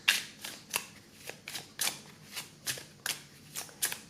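Oracle cards are shuffled by hand in a steady rhythm of crisp, papery riffling bursts, close and fairly quiet, repeating about twice a second with no voices.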